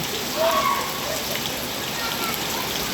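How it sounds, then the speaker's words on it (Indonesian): Steady heavy rain pours down in a dense, even hiss, constant and close, with no voices over it. "Sore ini kembali hujan yang lumayan deras."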